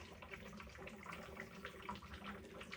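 Water bubbles through an extra-long bubbler with the flow turned down by a needle valve, making a faint, continuous gurgling and fizzing without pause.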